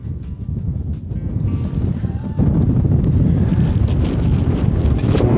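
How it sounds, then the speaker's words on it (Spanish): Strong wind buffets the microphone on the snowy slopes of Cerro Goye, a loud, continuous roaring rumble that grows heavier about halfway through, with no talking. "Por momentos se levanta mucho viento."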